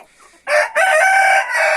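A laying hen in a coop gives a loud, close cackling call in two bursts after a brief quiet start, sounding more like crowing or squawking than soft clucks.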